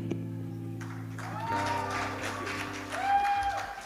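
Audience applause at a comedy show, a broad wash of clapping under steady music, swelling louder toward the end.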